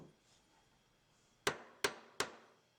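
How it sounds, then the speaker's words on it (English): Three sharp metallic hammer strikes from a ball peen hammer peening knife bolster pins, evenly spaced and close, each ringing briefly after a quiet lead-in. "then you can finish hammer peening after removing the clamp."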